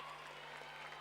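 A stadium crowd applauds during a long-distance race at a national athletics championship, a dense, faint wash of clapping heard from a distance for a brief moment.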